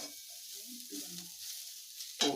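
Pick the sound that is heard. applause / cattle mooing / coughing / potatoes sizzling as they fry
potatoes sizzling as they fry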